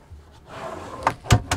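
A cabinet door in a Niesmann+Bischoff iSmove 6.9 E motorhome swings down and shuts, with a soft rustle of movement followed by three sharp, close knocks and clacks.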